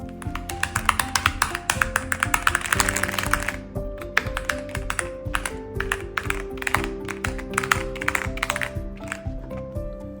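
A Cherry PIXIU98 mechanical keyboard with foam, IXPE and silicone dampening pads is typed on: a fast flurry of crisp, close key taps eases into slower, scattered strokes over soft tonal background music.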